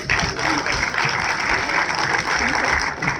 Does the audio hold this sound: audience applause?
yes